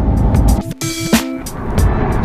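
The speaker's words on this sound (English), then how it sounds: "we have fitted an iPE exhaust, and that is why I'm in the car today, for you guys to have a listen" A Lamborghini Huracan fitted with an iPE exhaust, heard from inside the car: a loud engine roar that dips briefly, then swells again into a strong, sustained drone with rising tones.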